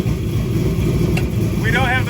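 Car engine running steadily on a dyno after a Palm Beach Dyno tune on an SCT BDX, a loud, close, continuous drone with no break through the short stretch.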